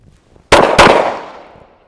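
Two pistol shots fired during a training drill crack out a quarter second apart, loud and close, the second blast trailing into a long fading echo.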